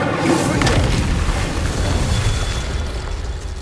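Incendio fire spell cast in the Hogwarts video game, a loud whooshing burst with a booming, fiery roar that swells at once and slowly fades.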